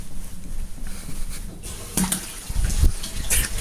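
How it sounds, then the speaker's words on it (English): A bathtub fills with hot water from a running tap indoors, a steady splashing rush that swells louder partway through, with a few clunks and knocks nearby. "Ignore the sound of a running bath."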